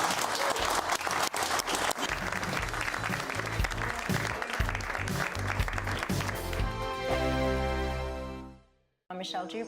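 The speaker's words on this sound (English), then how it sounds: "big round of applause for Zoe Strimpel" Studio audience applause on a televised British news and debate programme, loud and sustained with dense clapping and some cheering, then music swells before a brief cutoff near the end.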